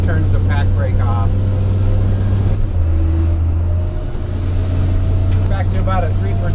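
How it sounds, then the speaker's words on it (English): Loud, steady low drone of a CAT 3116 mechanical diesel engine inside an LMTV truck cab, with the Pacbrake PXRB exhaust brake's rumble on a downhill grade and voices speaking over it. "You can hear it exhaust. When I step on the accelerator, it turns the pack brake off."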